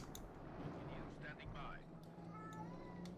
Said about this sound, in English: He's a very dramatic kitty, as you can hear.